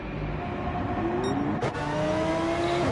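A GT2 race car engine in a video game race at Dragon Trail Seaside, a steady loud engine drone with gear shifts and a brief rising rev partway through, heard without talk.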